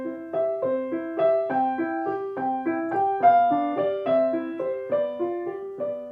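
Piano played with both hands together, a beginner's steady pattern of repeating bass notes under chords and a simple upper melody, sustained and evenly paced throughout with no talking.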